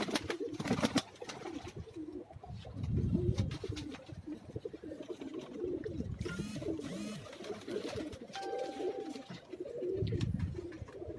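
Pigeons coo in a steady, overlapping murmur on a Karachi rooftop, close and fairly loud, a prized pair of fancy breed birds among them, with occasional wing flutters and faint background noise.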